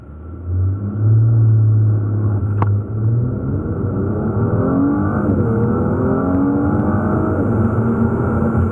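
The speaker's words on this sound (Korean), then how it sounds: "이와 같은 파워트레인을 기반으로 한 가속 성능에 대해서도 한번 알아볼까요?" A Mercedes-Benz E400 4Matic accelerating hard, its engine note climbing steadily through the gears as a loud, continuous rising drone with brief shift dips, close and with no voices.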